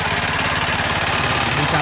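A mini tractor engine runs steadily and loudly throughout while ploughing cassava furrows, a continuous rumbling drone with a rhythmic low throb.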